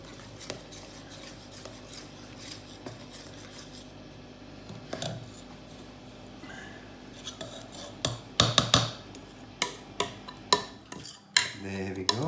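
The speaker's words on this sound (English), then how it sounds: "And I got the ladle ready to stir." A ladle stirs vegan savoury pancake batter in a mixing bowl, starting as soft steady scraping and swishing, then turning into louder, sharper knocks and clinks against the bowl toward the end, with no talking.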